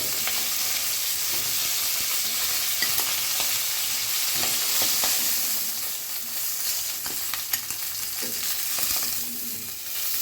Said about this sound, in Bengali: যেহেতু সাজো মাছ একেবারে, তাই খুব বেশি ভাজার প্রয়োজন নেই, হয়ে গেছে, তুলে ফেলবো এবার